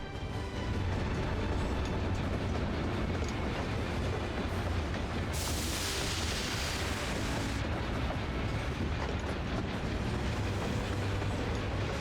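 A propane-powered train in Final Fantasy XIV Dawntrail rumbles past in a steady, dense roar that stays loud throughout, with a brighter hissing surge midway as it goes by.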